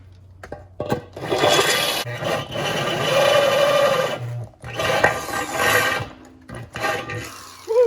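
A power drill bores into a metal engine part, grinding and rasping in long loud bursts separated by brief pauses, close up with no talking.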